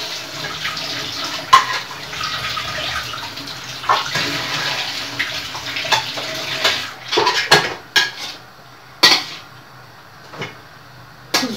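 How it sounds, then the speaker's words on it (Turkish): Boiled eggs are rinsed under a running cold-water tap in a kitchen sink, with steady splashing water and several sharp clinks of the eggs and a pot knocking against the sink. "soğuk sudan geçiriyorum yumurta kıracağım için yumurtalar pişmesin diye"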